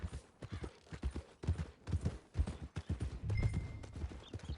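Horse hooves clip-clop in a steady trotting rhythm inside a cowboy video game, fairly faint with a rumbling background that swells toward the end.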